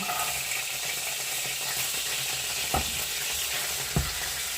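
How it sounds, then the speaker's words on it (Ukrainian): Steady, dense sizzling of carrots frying in a hot pan over high heat, with a couple of brief clicks or scrapes near the end. "І теж обсмажуємо на великому вогні до прозорості."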